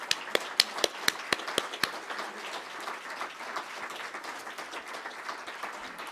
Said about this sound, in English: I want you to please give them a round of applause